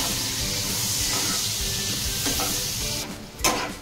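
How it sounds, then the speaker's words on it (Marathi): Onion sautéing in a pan for pav bhaji, giving a continuous near sizzle with soft stirring scrapes and a brief louder hiss toward the end. "कांदा चांगला परतून झाला आहे"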